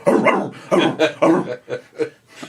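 A dog barking close up: a quick run of about six sharp barks and yips, loud and clear, the later ones shorter and a little softer.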